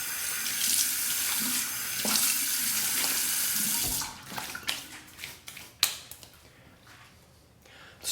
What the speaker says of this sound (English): final rinse on the razor. A final cold water rinse.